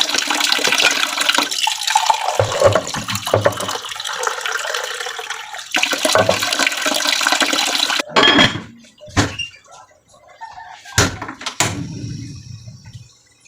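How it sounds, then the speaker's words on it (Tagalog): Water poured into a cooking pot while making paksiw na adobo, a steady splashing pour running several seconds before breaking into short intermittent trickles and splashes, fairly loud and close, with no talking. "Lagyan natin ng konting tubig."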